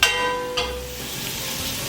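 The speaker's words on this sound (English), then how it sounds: "I want you to see how my vegetables are sauteing away" Vegetables sautéing in a pan, a steady close sizzle with a faint stir or clink at the start and midway, no talking over it.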